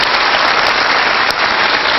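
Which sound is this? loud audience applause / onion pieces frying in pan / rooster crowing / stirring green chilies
loud audience applause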